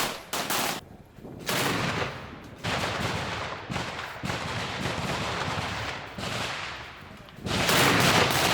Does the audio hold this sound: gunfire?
yes